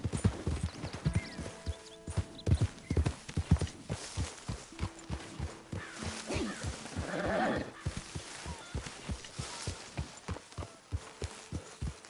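Rhythmic hoof clip-clops of a horse at a steady walk in Red Dead Redemption 2, close and clear, with a brief whinny partway through.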